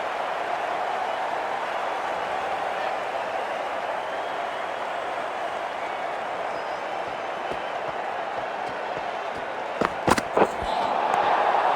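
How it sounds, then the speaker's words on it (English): Steady roar of a cricket stadium crowd in the Cricket 24 video game, a broad continuous murmur filling the background, with a few sharp knocks and a brief swell near the end. "There's an almost tangible fervour throughout the crowd at the moment."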